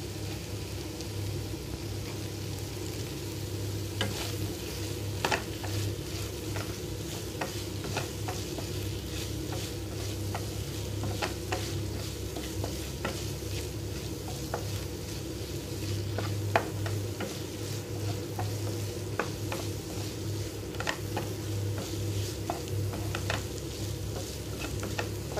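Fried eggs tossed into sizzling Manchurian sauce with onions in a pan for egg Manchurian dry, a steady hiss under repeated spoon taps and scrapes over a long stretch, no voices.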